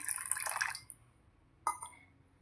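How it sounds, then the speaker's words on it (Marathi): Water is poured into a semolina batter for instant rava uttapam: a short close trickle and splash, then quiet, then a brief second splash. "ह्याला आणखीन थोडं पाणी लागणार आहे"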